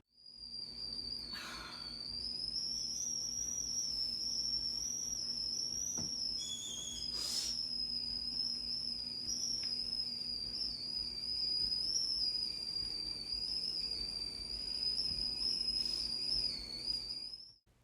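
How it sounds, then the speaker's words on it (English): Teapot whistling alone in a quiet room, a continuous high, wavering tone that holds for over fifteen seconds with slight pitch wobble and a couple of brief bumps. "responds to the cries and whistling of the teapot"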